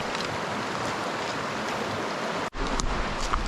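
Creek water rushes steadily past a hiking-trail creek crossing, a loud, continuous broadband flow heard up close, broken by one brief cut partway through.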